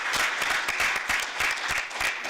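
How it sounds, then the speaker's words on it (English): An audience at the 44th ACERWC Ordinary Session claps together in a steady, rhythmic pattern of fairly loud, regular beats that runs throughout, with no talking. "you need to clap if you want to clap"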